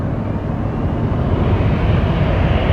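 An airplane at Detroit Metro Airport rumbles in a steady, loud, broad roar that holds constant throughout, with no voices heard.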